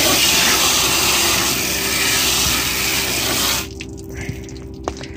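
Water pours steadily from a cleaning bucket while a motorhome is being cleaned, a loud close splashing rush for several seconds that stops abruptly, followed by a few small knocks and drips.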